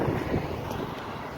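Cool wind blows outdoors along the Srisailam route through a tiger reserve, heard as a brief, steady low rumble of gusts buffeting the microphone with no speech.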